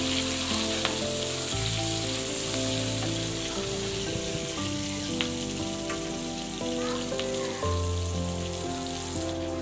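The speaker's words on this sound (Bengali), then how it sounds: "পেঁয়াজটিকে তারপরে কড়া করে ভেজে নেবেন, হালকা করে ভেজে নেবেন কড়া করে" Onion fries in hot oil in a pan for Gandharaj chicken, giving a steady, close crackling sizzle throughout with low background hum and faint clinks, no talk heard.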